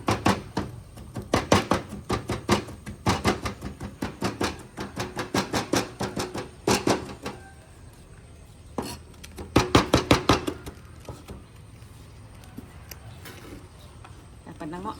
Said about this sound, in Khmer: យើងកច្រាំងខ្ទឹមបដាដើម្បីបំពងឲ្យឈ្ងុយ